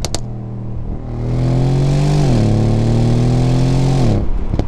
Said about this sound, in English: This is a V8 model, and it's rear-wheel drive, automatic gearbox, and it's a lot of fun.